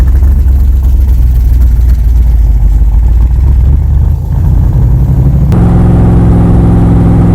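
A 1965 Shelby replica built by Backdraft Racing, its engine loud and close, rumbling deep and steady while driving, then shifting to a higher, smoother tone as it revs on.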